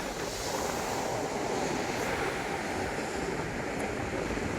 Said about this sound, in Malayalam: ഭയങ്കര കടൽക്ഷോഭമാണ്.